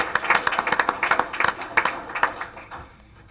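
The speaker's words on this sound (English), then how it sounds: "Let's give them another round of applause." Audience applause at a public board meeting, a moderate round of scattered claps that fades out after about three seconds, with no talk over it.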